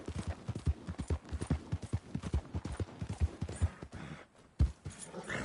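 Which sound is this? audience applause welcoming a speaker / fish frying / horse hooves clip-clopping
horse hooves clip-clopping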